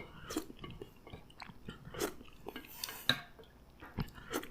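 Close, wet chewing and soft crunching of Shin Ramyun noodles with egg, irregular bites and mouth sounds at low volume with no talking.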